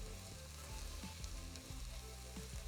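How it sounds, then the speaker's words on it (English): Onions soften over low heat in a pan for octopus stew, with a quiet, even sizzle and a few soft scrapes from stirring, close but faint throughout. "sweating off those onions. So we just want to soften the onions"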